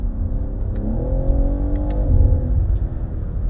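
BMW G80 M3 Competition engine revving steadily up and down, a close, continuous mid-pitched car engine drone with a slight rise and fall, heard alone with no talking.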